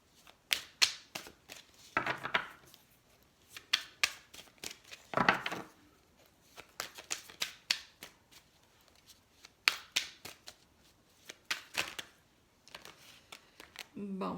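Tarot cards being shuffled and drawn by hand, repeated bursts of riffling and crisp slapping snaps in irregular clusters, close and fairly loud, with no talk over them.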